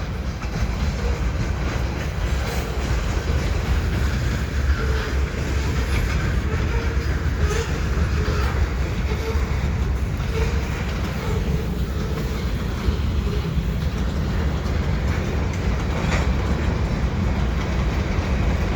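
A long freight train of containers, auto racks and mixed cars, including Burlington Northern cars, rumbles past in winter with a continuous low roar and faint wheel clatter, steady and fairly close, no talk.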